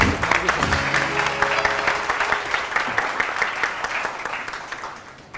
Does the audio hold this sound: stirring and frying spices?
no